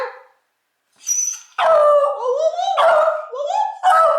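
Dogs barking and whining eagerly before dinner time in a home kitchen, a close run of high, harmonic yelps and howl-like whines following one another after a short quiet start.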